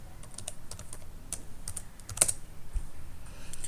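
Quick, irregular clacking of keys on a computer keyboard as a password is typed, close and fairly quiet, with a slightly louder cluster of strokes midway and no talking.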